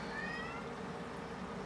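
A cat meows at night, short bright meows in the first half over a steady background hiss, then quieter, with no talking.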